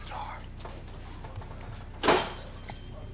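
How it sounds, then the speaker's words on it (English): A house door swung shut as luggage is brought inside, one solid thump standing out above quiet talk, followed by a smaller knock. "Gotta shut the door."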